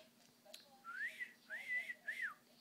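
Three short rising-and-falling whistled phrases from a cockatiel, fairly close and clear, with brief pauses between them and no talking.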